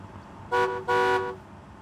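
Two short, loud horn toots sound in quick succession from a car in the video game Bridge Constructor, standing out over a quiet background.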